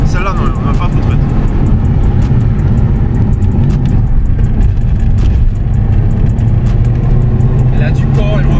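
Race car engine accelerating and pulling strongly, a steady dense mid-range roar that holds for several seconds with ticking and clatter on top, while people talk over it.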